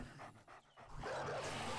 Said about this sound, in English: The dog's trying to kill him.